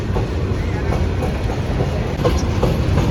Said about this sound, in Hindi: अब हमारी ट्रेन चल चुकी है मिर्ज़ापुर से।